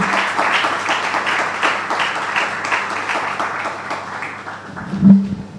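Audience applause at a Nigerian Bar Association Eti-Osa branch law week event, a steady dense clapping from a crowd that carries through and tapers near the end.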